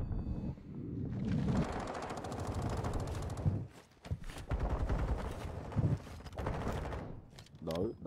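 Rapid automatic gunfire in the shooter Call of Duty: Warzone 2.0: sustained bursts with short gaps, fairly close and loud, mixed with footsteps as a player talks over the fight.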